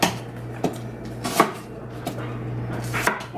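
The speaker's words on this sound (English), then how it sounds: "I'm just going to cut them in half and put them in my bowl." A knife halving Brussels sprouts on a cutting board, several crisp separate chops at an uneven pace, close and clear against a quiet room, no talking.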